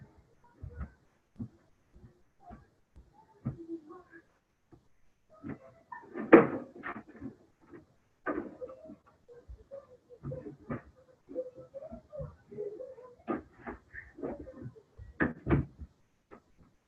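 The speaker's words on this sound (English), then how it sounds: "let me close this door" Indoor household knocks and clunks from a door being shut, a scattered series of short thuds and rattles with quiet gaps, fairly close and moderately loud, with no talk over them.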